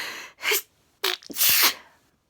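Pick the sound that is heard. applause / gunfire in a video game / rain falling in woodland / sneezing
sneezing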